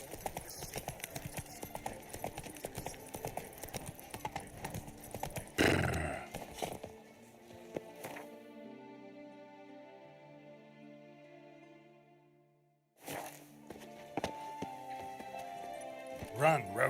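Hooves of the horse Roach clip-clop in a quick run across The Witcher 3, a dense rhythmic patter under a speaking voice, broken by a stretch of music before the hoofbeats return.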